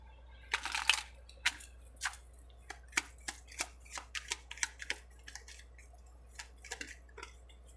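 Tarot cards being shuffled and drawn, a run of crisp papery snaps and flicks coming in irregular bursts, closer and louder at first, then lighter scattered taps, with no talking.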